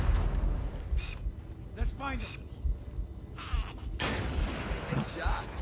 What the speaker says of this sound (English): Oh, there's a grenade right beside me.